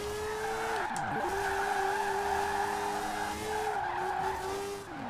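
Mazda race car in Forza Horizon 4 sliding through a drift, with a sustained loud tire squeal over a steady engine drone; the pitch dips twice as the slide is caught and re-held, continuous for about five seconds with no talk.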